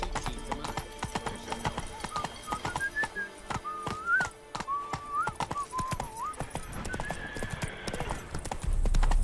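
A horse in The Witcher 3 galloping with rapid, steady clip-clop hoofbeats close by, joined by whistle-like tones and a brief neigh, with rising rumble near the end.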